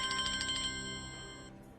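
A telephone rings in a short burst of bright electronic tones that stop partway through, leaving a faint background tail with no talk.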